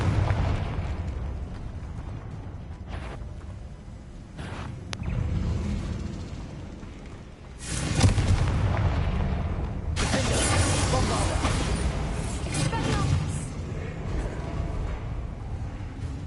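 Confringo fire spell explosions in Hogwarts Legacy, heavy booming bursts over a dense rumbling game soundscape, loud and continuous with a big blast partway through, with a voice speaking over it.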